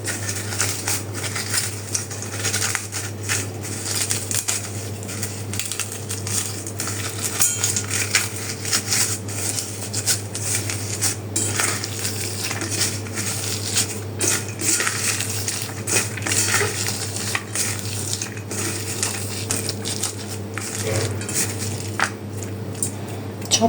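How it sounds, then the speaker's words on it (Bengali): Hilsa fish tail, its bones picked out, is hand-mashed with salt, dried chili, onion and coriander leaves for a bharta, making continuous close wet squishing and crushing with scattered small clicks and scrapes. "এই যে লবণ, শুকনো মরিচ, পেঁয়াজ, ধনেপাতা এগুলো চটকায় নিব"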